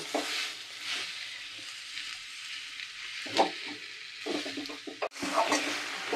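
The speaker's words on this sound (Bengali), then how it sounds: "এবার এ হোক, ততক্ষণ আমি নাড়ি" Oil-free cooking in a pan, the food stirred with a utensil over steady sizzling, with occasional scraping knocks, close and quiet with no talk.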